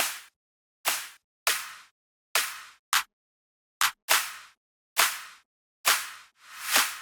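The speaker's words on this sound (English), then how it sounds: "Then claps." Clap samples from future house drop drums snap out about ten times in an uneven pattern, each a bright, crisp smack with a short noisy tail, heard alone and up front.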